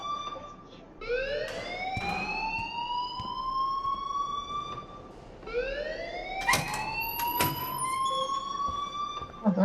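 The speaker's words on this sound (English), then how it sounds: "please turn off that alarm since that's your job" In a video game, an alarm wails in rising, siren-like sweeps, one long cycle starting near the first second and another around six seconds, fairly faint with scattered background clatter.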